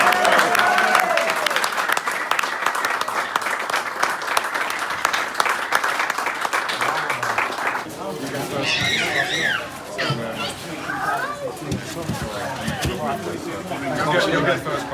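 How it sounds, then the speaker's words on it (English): A crowd at a koi show applauds the grand champion winner, steady loud clapping for several seconds that then thins into cheering voices and chatter as people talk over it. "massive round of applause to Simon, mate"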